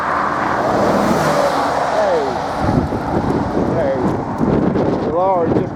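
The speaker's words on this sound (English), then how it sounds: "the lorry just coming over the top of the hill" A lorry comes over the top of a hill on a country lane in Ixworth, Suffolk, with a steady engine rumble and road noise. Wind buffets the microphone and birds chirp faintly in the background.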